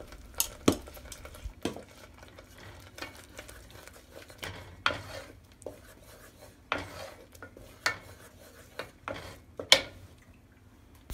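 Mutton being stir-fried and roasted in a pan over a medium flame, with a utensil scraping and clanking against the metal in irregular strokes over a soft background sizzle.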